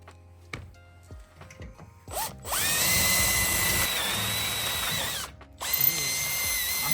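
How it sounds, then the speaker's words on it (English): Power drill boring a hole through the crash bar of an Audi A4 B9 during an intercooler install, heard as a sustained loud whine with a brief pause, preceded by a few sharp clicks and taps. "Now we're gonna go ahead and drill a hole in the crash bar"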